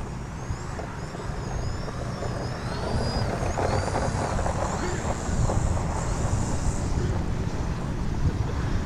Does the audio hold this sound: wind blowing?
yes